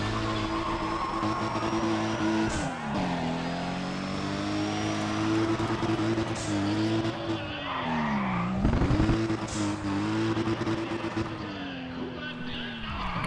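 A car drifting in the racing game Need For Speed: ProStreet, with a steady engine drone and sweeping tire squeal that bends up and down through two long slides, with quiet talk over it.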